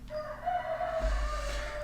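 A cockerel crows once in a long drawn-out cock-a-doodle-doo, close and fairly loud over a low background rumble.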